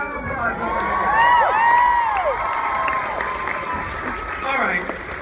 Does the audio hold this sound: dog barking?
no